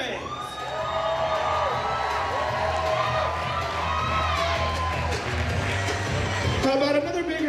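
Wedding guests at a reception applaud and cheer loudly, with whoops and shouts over a crowd roar and music, sustained throughout.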